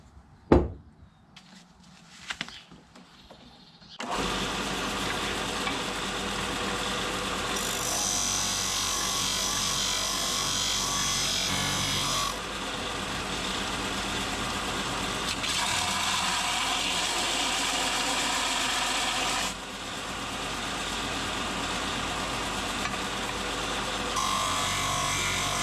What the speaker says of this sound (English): we're off to the linisher for 10 minutes to sand these a bit shorter